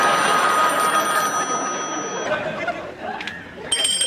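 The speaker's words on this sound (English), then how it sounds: "the phone would start ringing" A telephone rings steadily in a sitcom scene, moderately loud under crowd chatter, trailing off before a brief clatter near the end.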